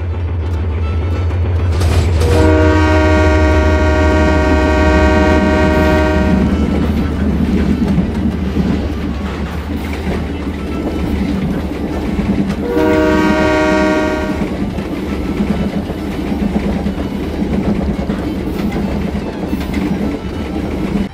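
A miniature CC201 model locomotive runs with a loud continuous rumble, sounding two long horn blasts a few seconds apart, the first about four seconds long and the second shorter, close and without talk.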